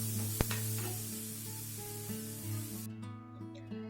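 Red chili, dry spices and tomatoes sauté in hot oil for a Bengali rohu fish curry, a steady hiss and sizzle over a low kitchen hum with a sharp click early on, cutting quieter near the end.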